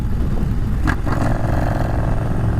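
A Triumph Bonneville Bobber motorcycle engine, a loud, close, continuous low rumble with a quick rev surge near the middle and a dense, throbbing exhaust note throughout.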